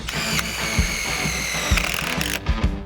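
A power drill whirs continuously at close range, driving self-drilling screws to attach a latch to a PVC fence gate, with a few knocks and clunks as screws bite, stopping briefly near the end.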